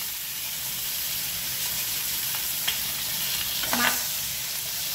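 Fish sizzling and frying in hot oil with a dry red chilli and bay leaf, a steady bright hiss with a few stirring clicks and spatters near the end, no voices.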